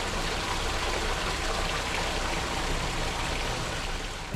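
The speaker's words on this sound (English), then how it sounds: "Wendy opens paddles to allow water into the lock to fill it" Canal lock on the Oxford Canal filling as water rushes in through opened paddles, a steady, dense gushing roar that holds even and loud throughout with no voices.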